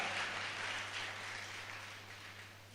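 A church congregation at a youth meeting gives sustained, fairly distant applause that gradually tapers off, with no talking over it.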